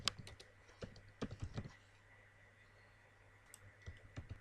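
Quick, light keystrokes on a computer keyboard come in two short clusters separated by a quiet pause, close and soft with a faint steady hum underneath.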